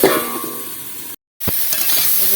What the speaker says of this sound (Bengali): কলাগুলো নেড়ে চেড়ে ভালো করে ভাজা করে নিয়েছি